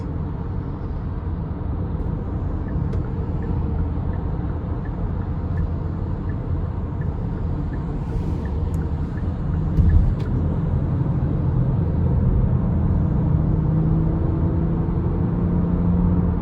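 Steady, continuous road drone of a 2022 Kia Carnival LXS minivan cruising on an interstate with its 8-speed automatic, a low rumble holding even throughout with a slight swell near the middle, no voices.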